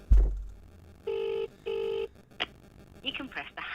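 Two telephone keypad tones, each a steady electronic beep about half a second long, heard close after a thump, followed by faint talk and clicks.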